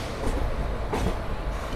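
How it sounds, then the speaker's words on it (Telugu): The Simhadri Express, just departed Visakhapatnam junction, rolls along with a steady low rumble and rattle heard from on board, with a faint rhythmic clatter. "మన ట్రైన్ వచ్చేసి విశాఖపట్నం జంక్షన్ నుంచి అయితే బయలుదేరింది"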